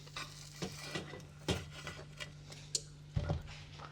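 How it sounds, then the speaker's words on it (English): A knife scraping and clinking along the metal edges of a pan holding a crisp-edged grandma pizza, with several short, quiet metallic taps and scrapes close by. "Just use a knife to run along the edges"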